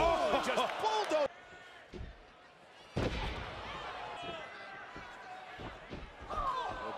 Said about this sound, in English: there's the power of Nia Jax as she slams